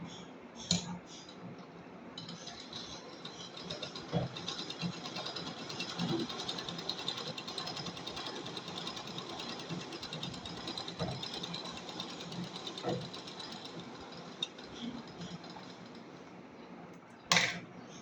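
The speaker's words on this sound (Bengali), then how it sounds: "এবার আমি এটাকে বাঁ হাতে ধরে রেখে ডান হাত দিয়ে চাকাটাকে ঘোরাবো।" A hand-cranked sewing machine turns with its wheel, producing a quiet steady mechanical whir with light rapid ticking of stitching and occasional sharper clicks.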